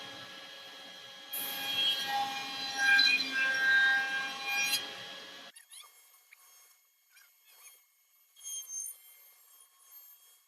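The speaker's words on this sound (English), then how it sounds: "Countersink the outside." A power drill grinds a countersink into a cedar chair leg for several seconds, a steady whirring cut that stops abruptly, followed by faint scraping and handling noises.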